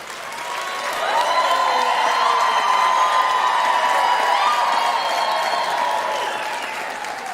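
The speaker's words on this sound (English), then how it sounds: "give yourself a round of applause" Graduates and their audience applaud at a university graduation ceremony, a broad wash of clapping with some cheering that swells in after a second, holds steady and then slowly tapers.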